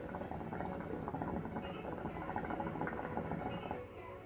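Hookah water with ice bubbles steadily and close up as smoke is drawn through it, a continuous gurgling rumble with no pauses.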